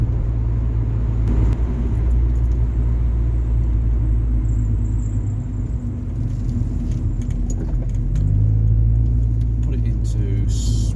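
A car engine drones low and loud from inside the cabin while driving, a steady rumble with road noise that lifts slightly in pitch toward the end.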